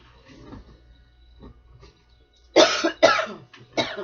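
Several sharp coughs in quick succession, close and loud, following a stretch of quiet low-level background.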